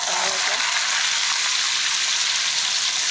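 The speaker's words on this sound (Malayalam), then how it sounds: "കുറേശ്ശെ ഇട്ട് വറുത്തെടുക്കാം." Something being fried a little at a time in hot oil for a bitter gourd curd curry, giving a steady, fairly loud hiss and crackle that runs unbroken throughout.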